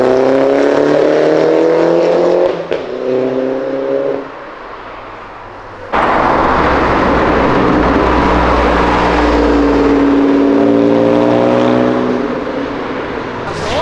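Two Peugeot cars driving past, engines droning and rising in pitch as they accelerate, a loud close pass with a gear change midway, then a steady roar fading slightly toward the end.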